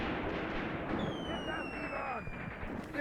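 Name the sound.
gunfire at a tank in video game Graviteam Tactics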